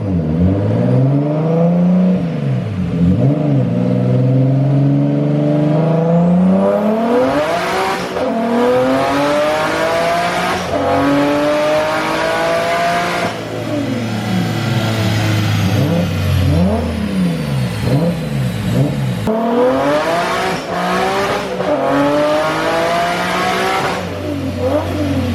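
A built RB25 engine in a Nissan Skyline revs hard on a drive, climbing and dropping through the gears again and again with a loud, close, rising whine and no talking.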